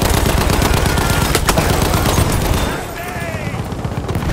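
Rapid, sustained machine gun fire from an MG15 n.A. on the Amiens map in Battlefield 1 rattles loudly and close. Continuous bursts are layered with battlefield noise and shouted voices, easing slightly toward the end.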